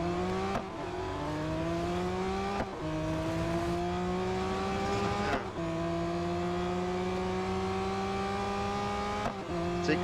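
A race car in the Real Racing 3 video game accelerating hard, the engine tone climbing steadily through each gear, then dropping at three quick shifts before rising again, loud and continuous with no talk.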